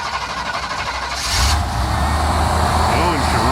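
A red 4x4 V1500 truck with a cracked windshield cranks for about a second, then fires and settles into a steady, loud, low idle up close.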